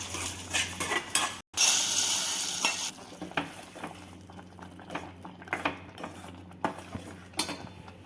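Dry fruits fry in ghee for a Kannada-style kheer, giving a bright sizzle that fades after a few seconds into scattered spoon clinks and stirring scrapes against the pan, close by with no talk.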